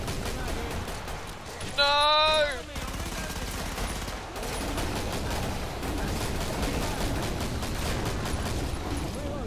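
Gunfire from the video game Killing Floor, a dense burst of shots running through most of the stretch, with a player shouting over it.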